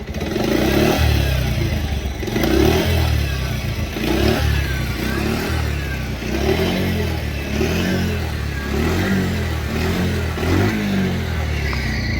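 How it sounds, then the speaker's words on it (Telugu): A motorcycle engine runs steadily nearby, idling with a throbbing rhythmic putter and occasional light clatter, loud and continuous with no talking. "మీకు ఇంజన్ సౌండ్ చూపిస్తాను చూడండి"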